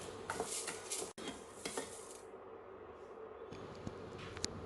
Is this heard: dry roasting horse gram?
yes